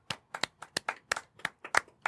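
A few people clap loosely in a small room, about a dozen sharp, uneven claps over two seconds, close and fairly quiet.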